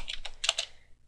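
Quick keystrokes clatter on a computer keyboard, about half a dozen close, crisp taps in rapid succession with no talking over them.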